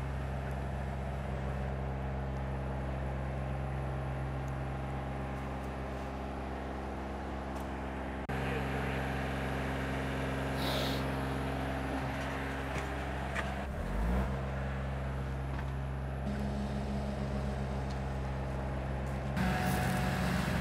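A Magni rotating telehandler turns all the way around inside a shop, with a steady low diesel drone throughout. Its tone shifts partway through, and brief hydraulic hiss and clunks come in near the middle and end.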